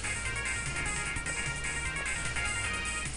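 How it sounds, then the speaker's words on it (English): Background music from the MMDWR video game plays continuously at a steady level, with sustained tonal layers over a low pulsing bass. "I think this music is a bit loud."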